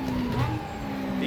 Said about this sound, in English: Big brake lock.